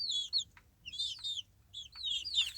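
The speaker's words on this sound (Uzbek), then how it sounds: "Mana shu jo'jalarimiz." Young chicks peep close by in short, high, clear bursts of three or four rapid chirps with brief quiet gaps, over a faint low hum.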